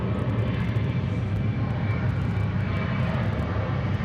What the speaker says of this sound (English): That is the MD-11, folks. That is the MD-11.